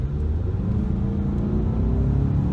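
A 2018 Mustang GT with a Whipple supercharger accelerates from a roll of about 25 mph, its deep engine rumble building steadily as heard from inside the cabin, with nobody talking.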